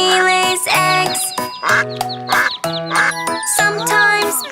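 A cartoon duck quacks over and over in a bright nursery rhyme, loud repeated quacks in a steady rhythm alongside tinkling music.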